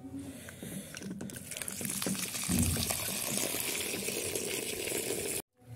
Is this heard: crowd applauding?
no